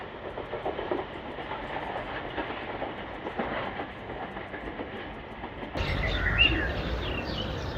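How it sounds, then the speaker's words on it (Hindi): The Tezgam 8 Down passenger train at a railway station rumbles past steadily with clickety-clack from the wagons, then swells louder and nearer near the end, and birds chirp faintly in the background. "ईद उल फितर की तीसरी ट्रेन तेज़गाम 8 डाउन"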